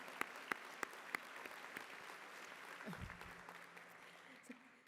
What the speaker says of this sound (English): I hope the applause is for you